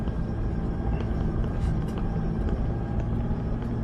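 A Toyota Hilux rolls down a hill with a steady low engine rumble and road noise throughout, close and continuous.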